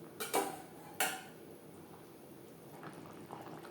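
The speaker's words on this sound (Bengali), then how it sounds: "গ্রেভির সাথে মাছ বেশ ভালো করে মিক্সড করে দেব।" Utensil clanks against a cooking pan as fish is mixed into gravy for a potato and hilsa curry, two sharp metallic knocks early, then softer scraping and stirring sounds under faint kitchen background.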